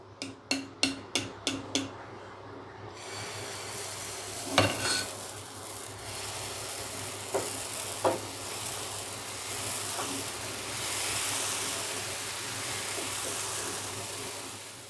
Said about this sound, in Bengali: ওভারনাইট ফার্মেন্টেশনের পরে আজকে আমি ধোসাটা বানাচ্ছি